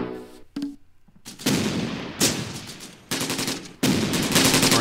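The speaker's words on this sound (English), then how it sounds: "Alright, 2 shots from our AT guns." Anti-tank gun shots in the World War II strategy video game Close Combat, several sharp loud bursts of gunfire with rattling decays, separated by brief gaps, close and alone with no talk.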